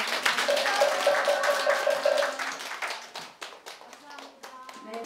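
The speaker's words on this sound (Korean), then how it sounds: "오늘 보시 한 분을 위해서 박수 한번 드립시다" A temple audience claps for a donor after a Buddhist dharma talk, a brisk burst of hand clapping under a tonal voice that thins into scattered claps by the end.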